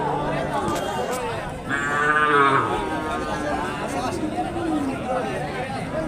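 Cattle at a livestock market, one close loud moo rising over busy crowd chatter and nearby talking, with more lowing mixed into the din.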